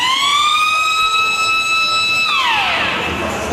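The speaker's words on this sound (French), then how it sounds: "C'est le son de l'alarme générale." A prison's general alarm sounds loudly and continuously as a steady electronic siren tone. Partway through, it drops sharply in pitch and blurs into a broad, harsh wash.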